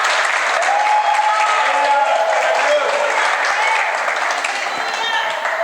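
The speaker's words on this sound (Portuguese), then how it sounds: "aplauso al Señor" A church congregation applauds in a loud, dense wave of clapping that fills the whole moment, with a voice talking over the ovation.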